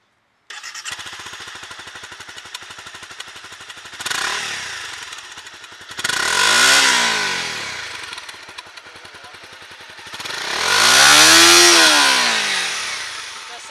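A Honda CBR250R sport motorcycle engine cranks and catches into a rough, steady idle, then revs up sharply twice, the second rise longer and louder before falling back.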